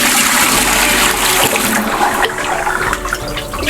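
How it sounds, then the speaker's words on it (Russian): Bourbon mash liquid being carefully poured off the grain before distillation makes a loud, close, continuous splashing gush of water with a steady full-bodied wash. "аккуратно, без осадка пока особого, снимаем такую юшечку, жидкость, и аккуратно переливаем"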